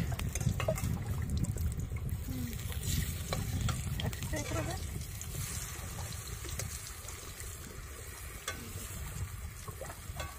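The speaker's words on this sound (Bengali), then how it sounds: "মামের জন্য আলাদা করে বেগুন ভাজতে হচ্ছে" Brinjal slices fry in a pan at an outdoor riverside cooking spot in the Sundarbans, giving a steady, dense sizzle with occasional stirring scrapes and light liquid crackles throughout.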